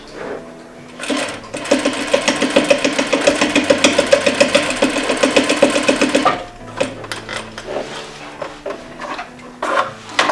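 A sewing machine runs steadily for about five seconds, stitching a covered welt closed on a fabric slipcover, with a fast even needle rhythm; brief handling clicks of the fabric and machine follow once it stops.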